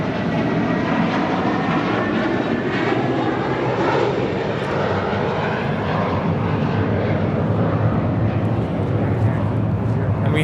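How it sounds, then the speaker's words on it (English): A JetBlue airliner from Miami landing at LAX sends a steady, loud jet engine roar over the runway area, and a voice talks over the noise. "This is JetBlue 2986 coming in from Miami"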